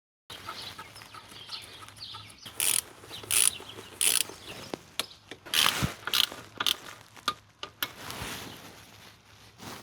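Small metallic clicks and ratcheting taps of a screw being fitted into a bracket on a Mini Cooper S R53 during restoration, in short irregular bursts close up with no talking.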